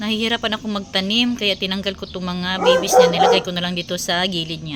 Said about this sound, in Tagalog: pasensya na sa aso, ang ingay talaga.